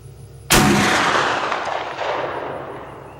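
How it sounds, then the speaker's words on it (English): An 1876 Winchester rifle fires one heavy bullet outdoors: a single sharp, loud crack, followed by a long rolling echo that fades over about three seconds. "I almost think I shot off to the right on that one"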